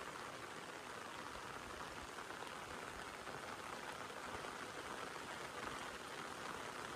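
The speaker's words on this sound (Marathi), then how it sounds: "पावसाचा आवाज घ्या मस्त" Steady rain falls over rice paddies around a Konkan village, an even, continuous hiss of drops on surfaces heard alone at a soft, constant level.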